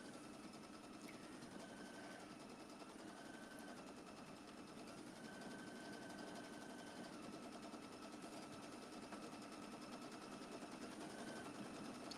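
An Aveneer longarm quilting machine stitches an edge-to-edge pattern with a stitch regulator, giving a quiet, steady mechanical hum with faint rhythmic ticking, even and continuous throughout.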